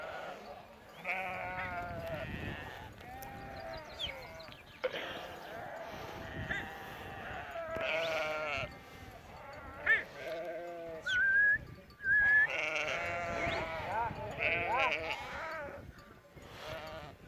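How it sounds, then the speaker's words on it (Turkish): A flock of sheep bleating repeatedly on their migration to the Şiran highland pastures in Turkey, many overlapping calls near and far, with some goat-like cries and occasional human voices mixed in. "Koyunlar yaylaya gidiyor."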